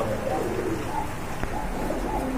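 Pigeons coo at a bird market where large king-size birds and racers are sold, soft repeated coos rising over a steady crowd murmur and faint background voices.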